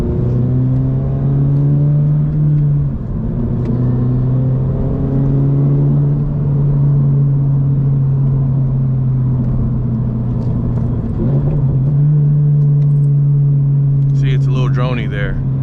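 A Toyota GR86 fitted with an MBRP exhaust drones steadily while driving, a loud, low, sustained hum that holds level for the whole stretch with a brief dip and a faint clatter near the end.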